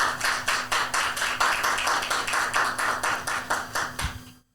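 Audience at a Christian Bible game show clapping in praise, a rhythmic, fairly loud run of about twenty evenly spaced claps that stops abruptly at the end.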